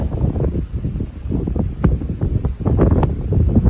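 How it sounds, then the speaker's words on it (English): Gusty wind buffets the microphone on a snowy mountain ridge along the Appalachian Trail in West Virginia, a loud, low, uneven roar that rises and falls in bursts. "But that wind coming from West Virginia"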